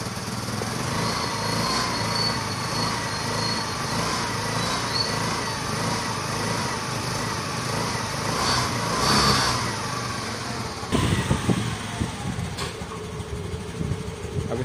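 A Honda Activa 3G scooter engine runs steadily after a carburetor service at home, a continuous buzzing idle close by with slight surges, followed near the end by some clattering handling noises.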